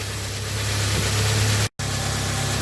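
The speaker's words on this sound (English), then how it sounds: "I'm going to let the engine fully warm up" A 1997 Jeep Wrangler engine idles while warming up on a cold, sunny day, a loud, steady, close rumble that cuts out very briefly near the end and then continues.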